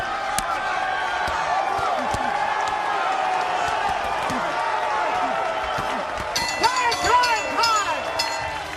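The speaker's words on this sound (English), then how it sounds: "It ends with applause from the fans" Boxing fans in an arena cheer and applaud at the end of a fight, a steady broad crowd roar with scattered claps and shouts swelling slightly near the end, with voices mixed in.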